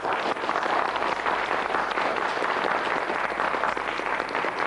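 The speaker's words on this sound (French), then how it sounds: "J'allais vous présenter Monsieur Boulard, que vous voulez applaudir très fort." Studio audience at a televised French word-and-numbers game show applauding a contestant, a dense, continuous wash of clapping held at an even level throughout with no speech over it.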